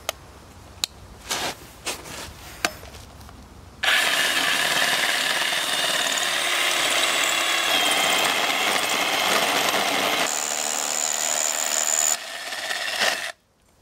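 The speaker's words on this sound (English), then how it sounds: "we're going to go straight for the 32mm core bit" A few short taps and bumps, then a loud, steady grinding whine of a DeWalt DCH273 18V cordless SDS Plus rotary hammer with a 32mm core bit boring into masonry for several seconds before it stops.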